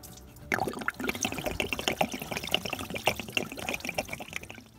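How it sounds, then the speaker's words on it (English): Coolant pouring and splashing out as a hose is pulled from the rear cylinder head coolant flange on a B7 Audi A4 2.0T, a steady close liquid gush with spattering drips and no talk. "pull this off, it's gonna go flowing everywhere, so be ready for that."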